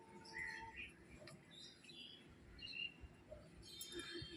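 Birds chirp and call in short bursts from a guava tree they are feeding on, in light rain, over a low background hum.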